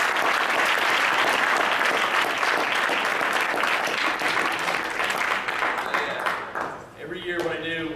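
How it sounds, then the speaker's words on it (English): A crowd applauds wrestlers at a team gathering with loud, sustained clapping. The clapping fades near the end as a voice begins speaking. "let's give those guys a round of applause"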